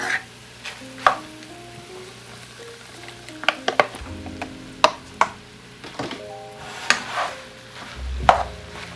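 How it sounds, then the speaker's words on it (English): Onion and mushroom cooking in ground beef in a pan: a steady sizzle under repeated sharp clacks and scrapes of a utensil stirring, with tonal kitchen hum in the background. "I'm going to go ahead and add the onion and the mushroom into my ground beef so that they can start to soften"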